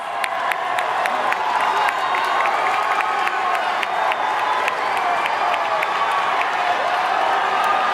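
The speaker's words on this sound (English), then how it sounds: "Let's give those contestants one more loud round of applause." Loud crowd at a Miss Universe preliminary evening gown competition applauding and cheering pageant contestants, a steady dense roar of clapping with whoops and shouts throughout.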